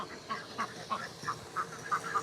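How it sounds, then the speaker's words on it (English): Ducks quack repeatedly outdoors on a farm where geese are also kept, about six short nasal calls spaced evenly and moderately close, with no talking over them. "We got ducks out everywhere."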